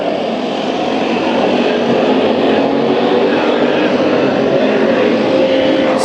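Race cars at Bakersfield Speedway, a dirt oval, roar in a steady loud pack as several cars battle for position, with a continuous engine drone that does not let up.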